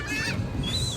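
Birds squawking at the Kemah boardwalk in Texas, a couple of short harsh calls close by over a steady background din.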